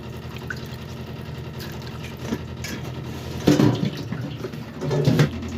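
Malabar spinach (poi saag) leaves are washed in water, with soft drips and splashes over a low background, and two fuller sloshing bursts of the leaves being stirred and lifted.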